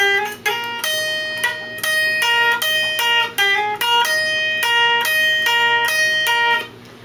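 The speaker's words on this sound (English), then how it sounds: "so the intro, like the main riff sort of thing" An electric guitar with a capo picks the main intro riff: crisp, ringing single notes in a quick repeating pattern, played alone and up close, stopping near the end.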